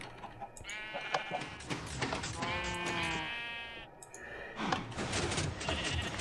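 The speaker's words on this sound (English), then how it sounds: "Get in here, you sheep." Sheep bleat in a Minecraft FTB modpack game, several wavering, harmonic-rich calls rising over a steady bed of game sound, with one long bleat in the middle and more following after a brief pause.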